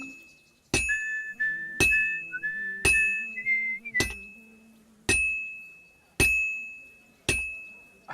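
A wavering whistled tune of a few short notes rises and slides over about three seconds, interrupted by sharp, ringing glass-like clinks that strike at roughly one-second intervals and continue after the whistling stops.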